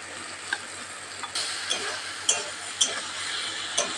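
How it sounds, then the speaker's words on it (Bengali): Fried potatoes being stirred into a sizzling masala in a pan, with steady frying hiss and several sharp scrapes and clinks of the spoon against the pan at irregular intervals, close and clear with no talk. "এবারে ভেজে রাখা আলুটা এই মশলার মধ্যে দিয়ে দেব।"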